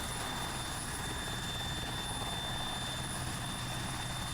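Military helicopter in the video game Arma 3, its rotor and engine giving a steady, loud, unbroken drone with a constant whine on top, heard alone.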